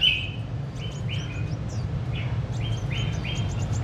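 A caged songbird calls sharply at another bird, repeating short bright chirps and whistled notes in quick bursts over a steady low background rumble, close and clear.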